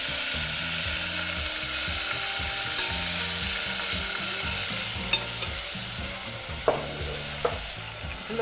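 Beef with Sri Lankan pepper sizzles steadily in a pan, a continuous frying hiss with a few sharp spatters and utensil knocks near the end.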